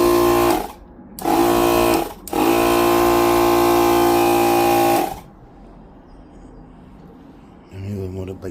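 A small electric pump inflates the tyres of a Honda NC750X DCT motorcycle, giving a loud buzzing whine in three bursts: two brief runs, then a longer steady run of about three seconds. Quieter background noise follows once it stops.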